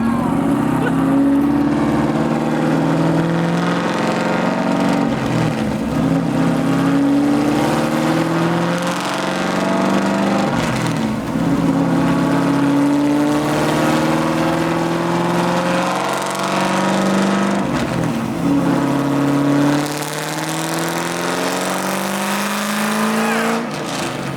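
A nitrous-fed C5 Corvette with a cam and stage 2 clutch roars through a drag-race launch, its loud engine climbing in pitch and dropping at each of several gear shifts, with a brief voice in the background.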